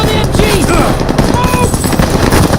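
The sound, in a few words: machine gun firing in video game Call of Duty: Vanguard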